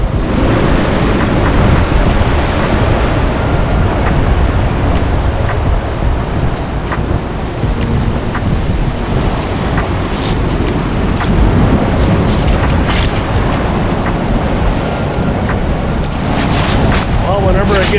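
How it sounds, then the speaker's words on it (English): Strong wind buffets a microphone on an ocean beach on Vancouver Island, producing loud, continuous rumbling gusts with steady surf rushing underneath and faint scattered clicks. "A little windy out here right now, so I don't know how it works with this mic."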